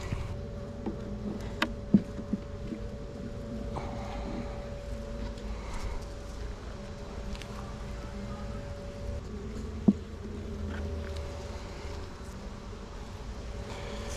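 Honeybees buzz around an open beehive during a hive inspection, a dense continuous drone with a few louder passes close by, with faint clicks and no talk.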